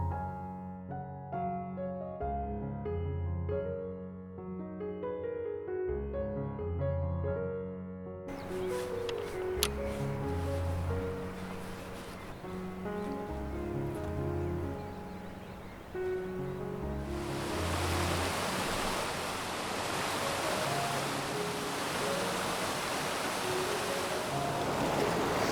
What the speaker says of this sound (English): Obviously with the waterfalls behind me, it's really noisy